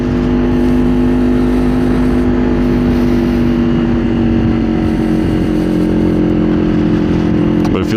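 Kawasaki Ninja 500 motorcycle engine running steadily while riding, a constant near drone with low harmonics and wind rush that holds throughout, ending in a brief clatter.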